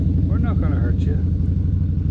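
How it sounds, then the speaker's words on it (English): A motorcycle engine rumbles steadily nearby on a dirt road in central Florida while a person speaks briefly over it. "Motorcycle."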